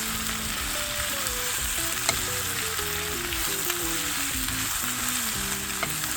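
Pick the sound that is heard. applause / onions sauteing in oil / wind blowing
onions sauteing in oil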